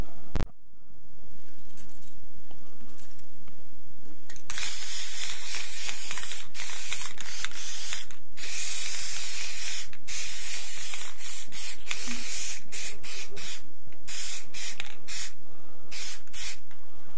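Clear coat finish hisses from an aerosol spray can onto a shed antler lamp in repeated bursts of varying length, close and steady, separated by brief pauses.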